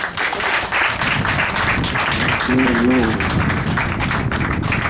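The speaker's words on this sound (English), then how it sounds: "Let's give them mothers a hand clap of praise." A crowd applauding steadily with dense hand clapping throughout, loud and sustained, with a few voices mixed in.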